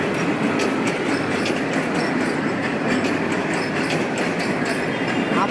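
A freight train of wagons loaded with milk containers rolls past close by in Bangladesh, a loud, unbroken rumbling roar with a fast clattering of wheels throughout.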